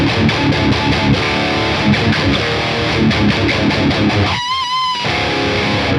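Heavily distorted metal guitar through a Bogren Digital S_Zero 93 amp plugin modelled on a guitarist's signature amplifier: loud, tight palm-muted chugging riffs, then a brief sustained high bend before the riffing returns.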